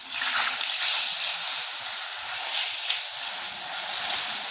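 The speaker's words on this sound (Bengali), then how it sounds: "তেল গরম হলে এর মধ্যে বেগুনগুলো দিয়ে ভেজে নিতে হবে।" Eggplant slices frying in hot mustard oil in a wok give a steady, dense sizzle and hiss, close and even throughout with no talk.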